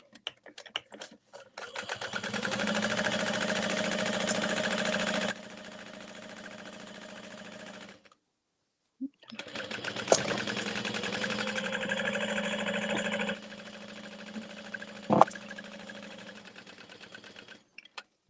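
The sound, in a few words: sewing machine stitching a tote bag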